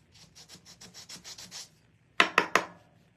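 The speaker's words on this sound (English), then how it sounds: "I'm going to take a Gator sander and just sand the edges of the stem" Gator power sander working the edges of a carved wooden pumpkin stem: a quick run of about eight soft, even rasping strokes, then a pause and three sharper, louder scrubbing bursts, close by with no talk.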